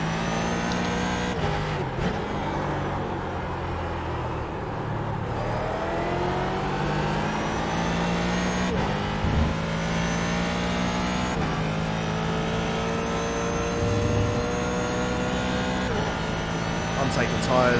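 A car engine revs and surges through a spin, its pitch climbing and falling repeatedly over a steady drone, with a voice talking over it.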